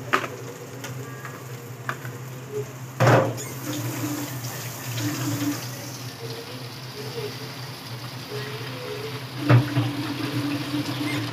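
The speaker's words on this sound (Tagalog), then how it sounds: "Saka natin siya lalagyan ng tubig." Water runs steadily into a cooking pot for pangat na isda fish soup, a low continuous pour with a couple of brief clunks, and a voice speaks faintly now and then.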